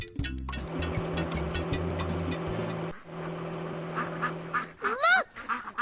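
Baby ducks quack in a cartoon over a busy backdrop of car engine drone and music, the quacks rising more clearly near the end.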